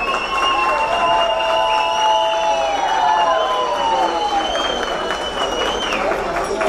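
An outdoor crowd at a carnival prize ceremony in Funchal applauds the award winners. Scattered clapping and crowd noise run steadily, with whistling tones sliding over the top.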